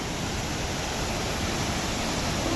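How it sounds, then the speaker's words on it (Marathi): Water rushing under high pressure through Nandur Madhmeshwar dam, a dense, constant roar of torrent close by, loud and unbroken with no voices. "बघू शकता मित्रांनो, खूप खतरनाक पाणी वाहतंय इथून"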